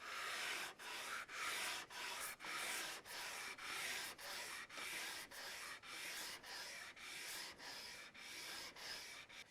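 Sandpaper rubs lengthwise along a wooden Telecaster fretboard with synthetic stone inlays, in steady rhythmic strokes, about seventeen evenly spaced scratchy swipes with short breaks between them, close up and with no voices.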